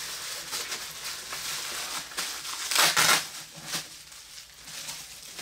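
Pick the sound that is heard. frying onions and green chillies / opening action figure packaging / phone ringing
opening action figure packaging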